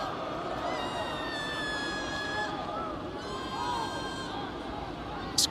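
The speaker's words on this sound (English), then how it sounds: "This crowd inside UB Stadium getting a little antsy" Crowd murmur fills a college football stadium, UB Stadium, during Akron at Buffalo, a steady broadband roar with tonal layers above it and a brief sharp sound at the very end.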